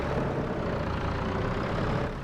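A truck engine in the Farming Simulator 25 video game runs at a steady, loud idle-like rumble for the whole stretch, with no talk over it.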